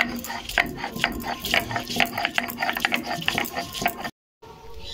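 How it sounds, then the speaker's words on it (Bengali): Ginger is ground into a paste with quick, rhythmic scraping and grinding strokes that sound close and fairly loud, then stop abruptly just before the end. "আদা বেটে নেব"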